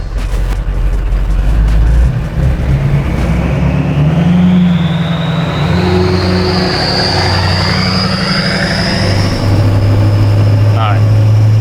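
A Duramax-powered vehicle on its first drive, stuck in limp mode, revs loud and close with a rising engine note, under excited voices of people inside.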